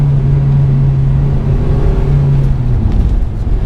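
Honda Civic Type R FD2 engine held high in the revs, a steady strong tone that sags slightly near the end, heard close and loud from inside the car, no talking.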